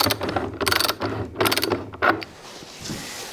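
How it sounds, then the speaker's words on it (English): Through bolts on a veneer press being tightened with a ratchet produce several bursts of quick clicking, close and loud, separated by short pauses and fading to quiet near the end. "you just go ahead and tighten up these through bolts"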